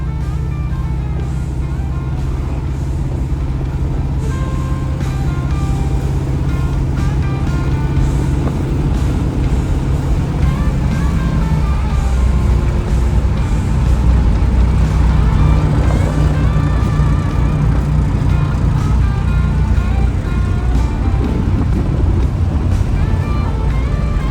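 A 1969 Buick Special Deluxe on the road with a bad back right tire produces a continuous low rumble and engine drone, close and steady throughout, with road noise layered over it.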